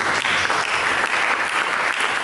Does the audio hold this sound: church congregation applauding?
yes